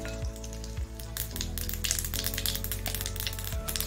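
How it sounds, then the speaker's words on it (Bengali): Fine mustard seeds crackle in hot oil in a pan. A dense, continuous sizzle is broken by scattered sharp pops, close up and with no voices. "সর্ষে ক্র্যাক করছে"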